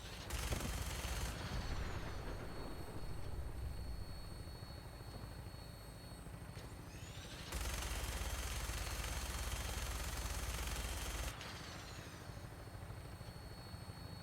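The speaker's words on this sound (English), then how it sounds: "Your minigun should be loaded and ready to fire." A Fallout 4 minigun fires from a vertibird in two long, loud, continuous buzzing bursts, with the helicopter rotor drone running steadily underneath and between them.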